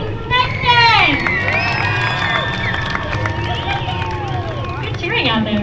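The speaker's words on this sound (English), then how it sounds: "Good cheering out there" A stadium crowd at The Bullring at Las Vegas Motor Speedway cheers and shouts for a Legend Cars race winner, a loud sustained roar of voices with whistles and whoops rising and falling over several seconds.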